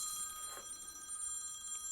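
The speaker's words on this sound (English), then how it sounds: "The work phone." An office work phone rings with a steady electronic trill, fairly faint and distant in a quiet room, with no talking over it.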